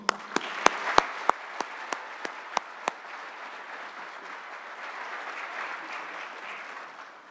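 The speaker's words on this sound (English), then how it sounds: "One more round of applause for him." Graduation audience applauding a graduate, opening with a run of distinct sharp claps close by, then settling into a dense, sustained crowd clapping that fades toward the end.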